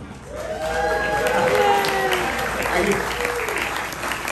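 An audience at a comedy roast bursts into cheering and applause, dense clapping mixed with whoops and shouted voices, loud and sustained before easing off slightly toward the end.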